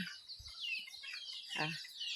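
Chicks and grown chickens clucking outdoors on temple grounds, a few short, faint low clucks scattered over a steady high chorus of birds or insects.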